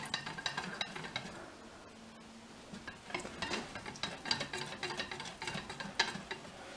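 Sweet-salty caramel mixture for biscuits being stirred in a pan: steady scraping and swishing strokes with a few soft clinks, fairly quiet and close, with no talking.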